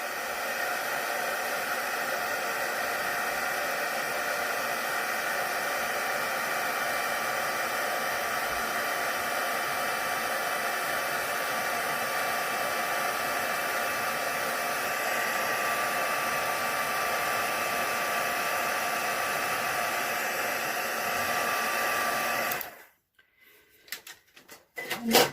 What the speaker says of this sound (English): So I'll just heat set this.